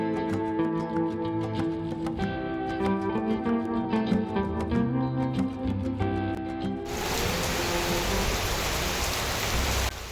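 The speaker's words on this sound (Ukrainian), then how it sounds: "Вийшли ми з Марком по продукти в магазин і застали в дорозі зливу." Heavy downpour caught while out walking to a shop: a dense, steady roar of rain fills the last few seconds, preceded by a stretch of tonal music with rhythmic clicks, no voices.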